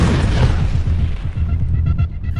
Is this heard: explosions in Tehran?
yes